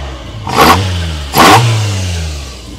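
A Toyota AE86 Trueno with quad throttle bodies and a high-lift cam gives two sharp, loud blips of the throttle over its idle, each with a roaring intake rush that quickly falls away.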